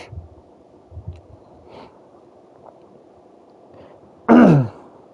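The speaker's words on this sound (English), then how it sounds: "Sometimes you gotta clear your throat" A man clears his throat once, a short loud rasping burst near the end, close to the mic, after soft low breathing noises and quiet college football video game sounds in the background.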